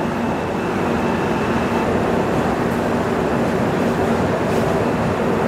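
Lohit Express, the Guwahati–Jammu train, pulling out of platform 1 at New Alipurduar station, a steady dense rumble of rolling wheels and carriages, loud and continuous throughout.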